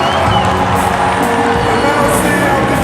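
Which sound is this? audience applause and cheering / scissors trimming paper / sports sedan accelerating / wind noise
audience applause and cheering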